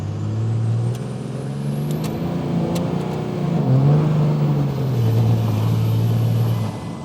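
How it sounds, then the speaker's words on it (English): A 700-horsepower second-generation truck cruises down the road in second gear, its engine droning loudly and steadily from inside the cab, the pitch rising and easing slightly with light throttle changes. "It's a fun truck. So this is second, just cruising down the road."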